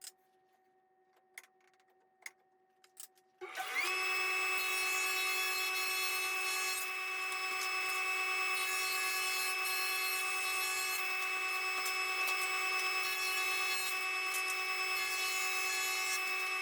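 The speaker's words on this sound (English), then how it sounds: "Now when I rip this down into my 3-inch strips, I don't have to worry about getting it exactly perfect on both pieces." A power saw rips a wooden board into 3-inch strips for recessed panel wainscoting, starting after a few short clicks and taps, then a loud, steady whine of the blade cutting continuously through the wood for over ten seconds.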